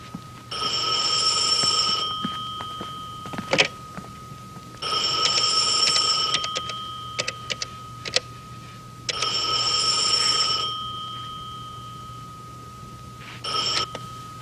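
A telephone bell rings in three long bursts separated by pauses, with a shorter fourth burst starting at the end, loud and close in a quiet room with occasional small clicks between rings.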